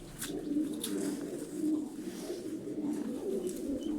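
Pigeons at a 23 April National Sovereignty and Children's Day festival release coo in a steady, low, continuous murmur, with a few faint higher chirps scattered above it.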